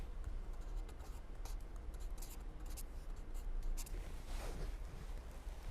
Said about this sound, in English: You have to write like this